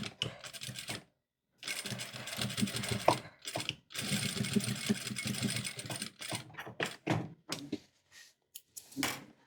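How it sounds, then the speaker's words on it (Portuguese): A sewing machine stitches a 1 cm seam along a skirt waistband, running in several steady bursts of rapid mechanical whirring separated by short pauses, close and clear with no talking. "E passar uma costura de 1 centímetro aqui."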